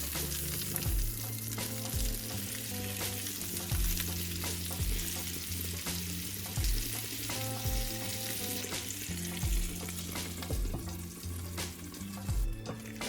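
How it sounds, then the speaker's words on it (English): Lamb chops fry in a pan with a continuous crackling sizzle and pops throughout, heard close with no speech, while low background music plays under the frying. "You will fry your lamb chops for 5 minutes each side and let it cook."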